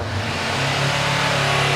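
A 2020 Honda CB500X motorcycle is revved close by, its engine rising quickly to a loud sustained roar with no talk over it.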